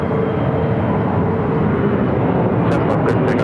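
An American Airlines airliner takes off from runway 7 left at Phoenix, its jet engines giving a loud, steady broadband roar that holds for the whole stretch, with a few brief high clicks near the end.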